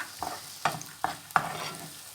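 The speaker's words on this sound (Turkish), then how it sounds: "Soğanları kavuracağım." Chopped onions sautéing in a pan, a soft, steady sizzle broken by four sharp scrapes of a spoon stirring at an uneven pace, close and fairly quiet.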